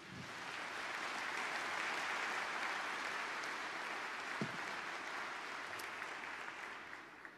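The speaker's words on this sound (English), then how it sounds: "Nobody asked them to clap and to applaud." An audience at a business forum Q&A session bursts into sustained applause that swells quickly and holds steady for several seconds, a dense clapping wash with no speech.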